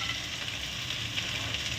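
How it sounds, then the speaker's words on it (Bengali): Onion, potato and peanuts fry in oil beside egg, a brief, steady, close hiss of sizzling with no voices. "এই ডিমের সঙ্গে সাইডে ভেজে নিচ্ছি,"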